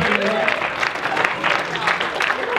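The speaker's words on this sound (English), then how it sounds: "Round of applause for that too." Applause from a comedy show audience, a dense steady clatter of clapping that fills the whole stretch, with a faint voice briefly audible near the start.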